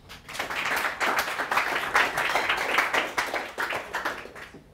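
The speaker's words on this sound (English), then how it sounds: "So please give a round of applause for Tom." A crowd applauds steadily, many hands clapping together in a dense, sustained burst that holds for several seconds.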